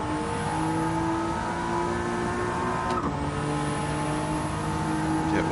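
Race car in Gran Turismo 7, played in VR with a wheel, accelerating flat out on nitrous; a loud, continuous high-revving engine whine holding steady, with a brief shift near the middle and no talking.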